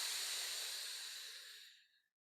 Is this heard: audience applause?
no